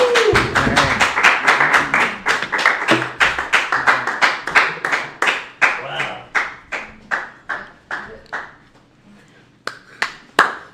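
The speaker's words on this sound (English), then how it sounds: "Big round of applause" Scattered hand claps from a small crowd build quickly, then thin out into a few isolated claps before fading.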